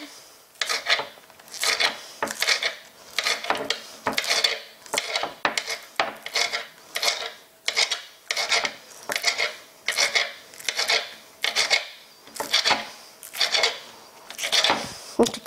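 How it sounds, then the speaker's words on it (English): A knife chops green onion on a board in a steady series of crisp, evenly spaced strokes, each a short, bright rasping cut, close and clear with no talking. "Finally chop the green onion."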